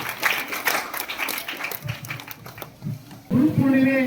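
An audience claps together at a Guru Purnima celebration at Hirekal Math in Honnali, with a dense round of applause that thins out before a voice begins speaking near the end.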